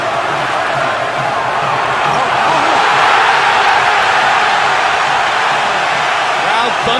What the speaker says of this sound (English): Crowd thunders its appreciation as Hatton almost gets penalized.